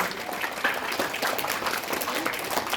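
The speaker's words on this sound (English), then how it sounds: "I request you to give a big hand and round of applause to our teachers" An audience at a school investiture ceremony applauds its teachers with a steady, dense wash of hand clapping that holds at an even level throughout.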